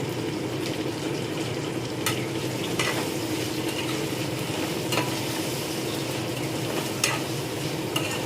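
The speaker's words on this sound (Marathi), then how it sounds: "छान असं मिक्स करून घ्यायचं आपल्याला" Eggplant and peas being stirred in a pan, a steady close sizzling hiss with scraping spoon strokes breaking through every second or two, no voices.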